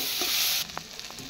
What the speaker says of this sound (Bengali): তো টমেটোগুলোকেও আমি ভালো করে নেড়ে নেবো যাতে টমেটোগুলো তাড়াতাড়ি গলে যায়